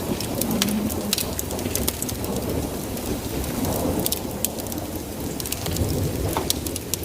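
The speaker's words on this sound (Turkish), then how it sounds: "Yağmurda çok ıslandık." Steady rain falls hard on surfaces outdoors during a hike in the Latmos mountains. Distant thunder rumbles underneath, and a bird calls faintly now and then.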